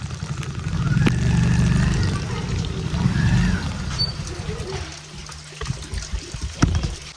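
Floodwater flowing through a village after rain, a continuous low rushing wash with a few clicks and knocks, steady and fairly close, voices faintly in the background.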